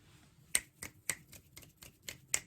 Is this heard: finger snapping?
yes